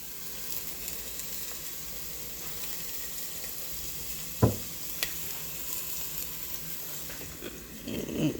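Shallots gently sautéing in a pan over medium-low heat as a risotto base give a steady, soft sizzle throughout, with a single stirring clatter partway through and a brief scrape near the end.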